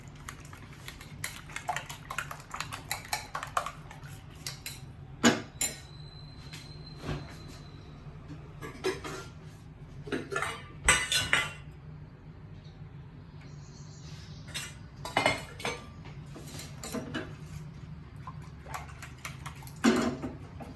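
Eggs beaten with a little garlic and milk in a bowl: a fork or whisk taps and clicks against the sides in quick irregular bursts, close and fairly quiet, over a low steady room hum.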